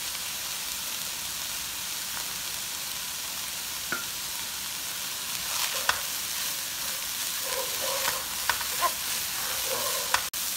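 Onions cooking in a pan for a cheesy fettuccine pizza bake, with a soft steady sizzle and occasional stirring scrapes and clicks, fairly quiet and close, no voices.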